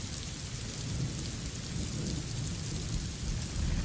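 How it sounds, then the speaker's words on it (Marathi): Heavy rain pours steadily in Kolhapur during a downpour that has pushed the Panchganga river toward danger level, a dense, loud roar of rainfall with deep rumbling underneath and no voices. "आपण पाहतोय दमदार पावसाने हजेरी लावली आहे कोल्हापूरमध्ये"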